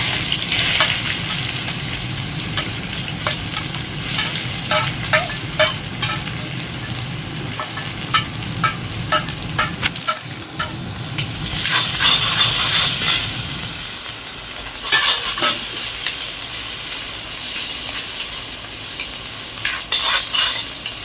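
Steady sizzling of onions frying in hot oil, with occasional scraping and stirring sounds from a utensil in the pan.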